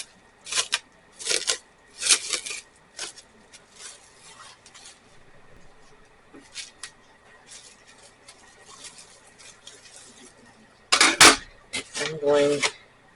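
Plastic wrap crinkles and rustles in short bursts as homemade egg noodle dough is unwrapped, with quiet handling noise between the bursts and a louder crinkly flurry near the end.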